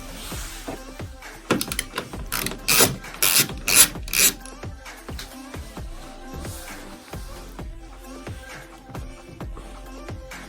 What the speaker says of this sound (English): there's a 10mm screw nut there. So if we loosen that,